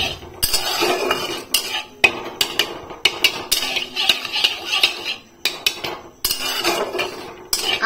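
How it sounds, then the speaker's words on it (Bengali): Spoon or utensil scraping and clattering against a metal bowl while momo filling is mixed with tomato sauce, irregular clinks and scrapes in quick bursts, close and fairly loud with no talking. "আর তার সাথে দেব এই টমেটো সসটা। দিয়ে সব জিনিসগুলো ভালোভাবে মিক্স করব।"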